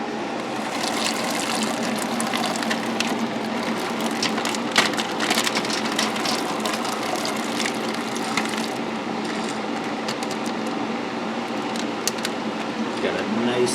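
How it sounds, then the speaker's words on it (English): Hopped wort swirls in a whirlpool inside an Anvil Foundry 10.5-gallon electric brewing system, giving a steady, close rushing and splashing of liquid that continues evenly throughout. "Got a nice little Whirlpool going."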